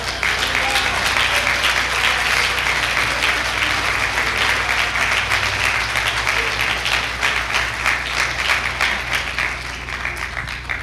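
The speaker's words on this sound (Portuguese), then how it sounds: "Você pode aplaudir o Senhor Jesus." A church congregation applauds in honour of Jesus, a dense, even wash of many hands clapping at once that stays loud and steady throughout.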